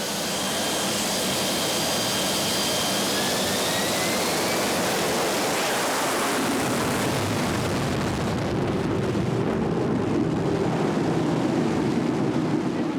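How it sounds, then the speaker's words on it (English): A fighter jet launches from the deck of the aircraft carrier HMS Illustrious. Its engine gives a loud, continuous roaring blast that surges up close and then shifts to a deeper rumble partway through. "Jet blast, you really have to lean against it. It's whipping the back of your neck with just hot gases."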